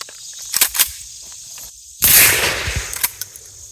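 A KSG 410 shotgun fires a single Winchester shell, one loud close blast with a short decaying tail, preceded and followed by faint handling clicks.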